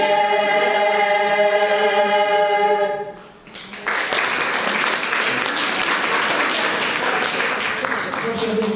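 Audience applause at a gathering, bursting in suddenly after a sustained musical tone fades, then continuing as a dense, loud wash of clapping to the end.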